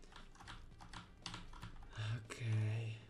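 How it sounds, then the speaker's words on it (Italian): A computer keyboard clatters with quick, irregular taps in the background while someone is playing Super Meat Boy. Brief vocal sounds come in near the end. "Spero che non si senta davvero la tastiera troppo in sottofondo."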